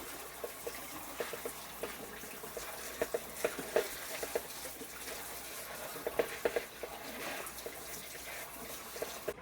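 Ripe tomatoes being rinsed in a bowl of water, with soft splashing, trickling and small knocks repeating through the clip at a steady, moderate level, close by and without talk.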